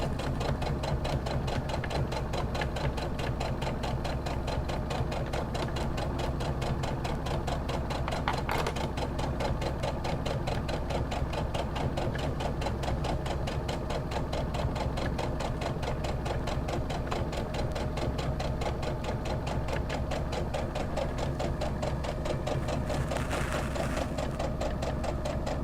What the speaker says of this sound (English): And I can stitch on my machine a little faster.